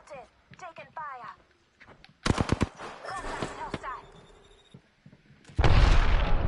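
Bursts of video game gunfire and explosive blasts crack out between shouted voice callouts, with a dense, loud volley of shots near the end.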